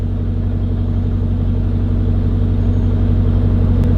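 A Jeep SRT8 engine idles close by with its stock exhaust, a loud, steady low rumble with a regular pulsing throb, running alone for a few seconds.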